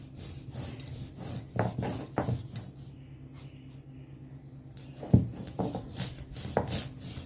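Mustard seeds ground into powder by hand for an amla (gooseberry) pickle: close, rough rubbing and rasping strokes that come in short irregular bursts, with a quieter lull in the middle and no talking.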